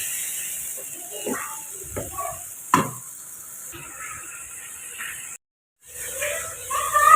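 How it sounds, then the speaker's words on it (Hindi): Chicken pulao masala roasting in a pan with a little water, a low hiss and sizzle broken by a few stirring scrapes and knocks, with a brief dropout of silence near the end. "उसी में इस मसाले को अच्छे तरीके से भून लेंगे तकरीबन 5 से 7 मिनट के लिए"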